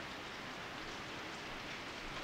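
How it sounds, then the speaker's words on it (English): Steady rain falling in a video game horror scene set at a school at night, a dense continuous hiss of drops with no breaks, fairly loud and close, with no voices. "It was probably the sounds of rain, wind, and thunder mixing together."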